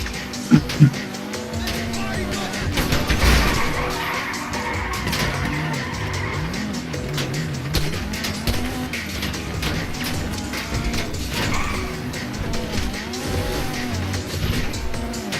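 Car tires squealing and skidding in Grand Theft Auto V, a steady engine drone under repeated screeching slides over about fifteen seconds, loud and close, with faint game sounds around it.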